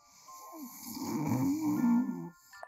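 A voice imitates a hare snoring in a holiday read-aloud story, a drawn-out, rumbling snore lasting a couple of seconds, fairly close and alone without other talk.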